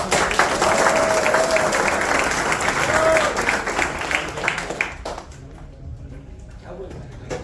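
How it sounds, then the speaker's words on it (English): An audience at an evening wrestling drama event applauds loudly to welcome the wrestlers, a dense wash of clapping and crowd noise that fades out after about five seconds into a quieter room. "Please welcome them with a round of applause."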